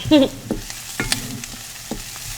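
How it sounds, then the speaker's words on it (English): Garlic frying in a pan as the base of a veggie stir fry, a soft steady sizzle with a few brief louder pops and stirring scrapes, close and alone. "So now we're cooking up the garlic"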